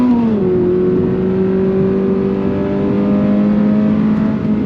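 Loud engine of a 2022 Subaru BRZ sports car droning steadily at high revs out to 7,500 RPM, a sustained rising whine after a brief dip, close and continuous.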